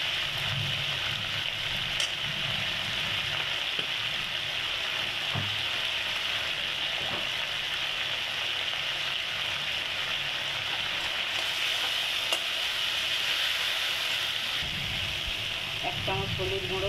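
Ground coriander and turmeric powder sizzle steadily in hot oil as the spice paste is fried for potato curry, a continuous close crackle with a faint low voice murmuring now and then underneath.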